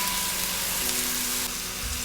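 Garlic and ginger sizzle steadily in a hot pan for Taiwanese three cup chicken, a loud, even frying hiss that stays constant throughout.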